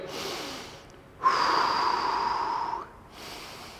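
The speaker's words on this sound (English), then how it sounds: "Big, big deep breaths as always." Deep breathing during a stretching routine: a soft exhale, then one long, loud breath drawn through the nose and held for about a second and a half, close to the mic, followed by quieter breathing.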